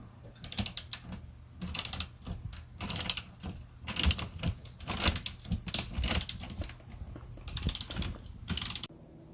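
Seat rail bolts being tightened on a 2023 Mazda MX-5 ND2, with repeated bursts of rapid ratchet clicking separated by short pauses, close and fairly loud, and no one talking.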